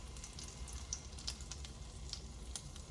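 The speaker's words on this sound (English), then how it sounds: "we're going to put about half of this, or about a quarter cup of pancake mix in your pan." About a quarter cup of pancake mix sizzles in a heated pan, giving a soft, steady frying hiss with small pops scattered through it, with no one talking.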